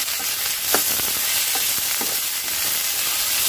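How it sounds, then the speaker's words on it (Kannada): Chopped okra fries in a hot pan for a tangy gojju, a continuous bright sizzle with scattered soft stirring scrapes and pops throughout. "ತುಂಬ ಸ್ವಲ್ಪ ಚೆನ್ನಾಗಿ ಹುರ್ಕೋಬೇಕು ಇದನ್ನು."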